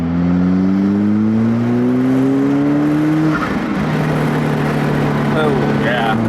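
An Alfa Romeo 4C fitted with a Capristo exhaust revs hard with a loud, rising engine drone, then drops sharply on a downshift and settles into a steady growl, close and continuous.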